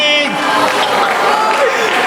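Steady applause from a school audience at a junior secondary inter-class choral competition, loud and continuous throughout with no break, with a voice on a PA briefly audible at the start.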